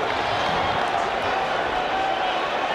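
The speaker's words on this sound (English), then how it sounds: "The crowd's in it." A cricket stadium crowd during a tense Test innings keeps up a steady, loud roar that fills the whole stretch with no breaks.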